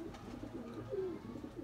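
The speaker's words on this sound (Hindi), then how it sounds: "रामपुरी कबूतर है जी" A Rampuri pigeon gives a soft, low coo, close and faint, with a single rising-falling note in the middle; no voices.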